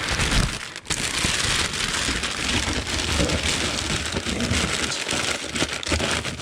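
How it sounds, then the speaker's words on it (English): Packing paper is handled around LP vinyl records: a steady, dense rustling hiss close by that stays fairly loud and continuous with little pause, and nobody speaks. "Now I'll take some packing paper."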